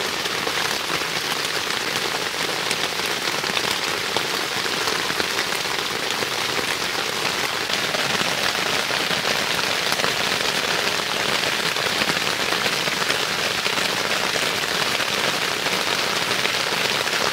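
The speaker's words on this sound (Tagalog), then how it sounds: "medyo tumitila na po yung ulan" Heavy rain pours steadily overnight at a fishpond, a dense, unbroken hiss of drops drumming on surfaces with no voices.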